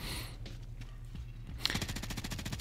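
Rapid automatic rifle fire from the JAK Shadow Titan kit in Call of Duty MW3, a sharp burst breaking out after a quieter stretch and continuing as fast, evenly spaced shots.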